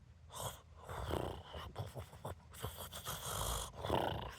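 A storyteller's voice imitates a baboon snoring, with a run of rough, rasping breaths drawn in and pushed out in an uneven rhythm, close and quiet.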